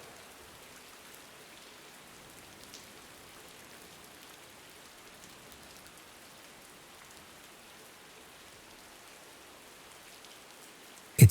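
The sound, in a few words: rain falling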